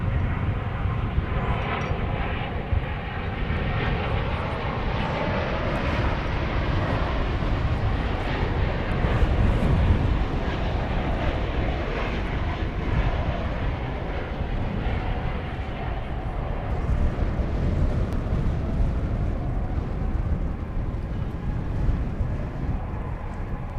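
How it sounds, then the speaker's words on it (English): A Boeing 777-200ER airliner on Flight 60 arriving from Narita, Tokyo, at DFW Airport, heard as a continuous loud, broad engine roar with rumbling low end that swells slightly toward the middle and holds steady throughout. "This is Flight 60 coming in from Narita Airport in Tokyo. It's a 777-200ER."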